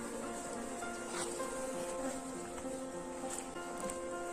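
A honey bee swarm hums at an apiary after a split, a steady, moderately loud buzzing drone with a few individual bees passing closer.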